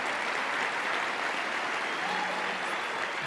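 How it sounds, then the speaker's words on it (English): A crowd at an animation awards ceremony gives a sustained round of applause, an even wash of many hands clapping at a steady level with no break. "And give yourselves a big round of applause for that."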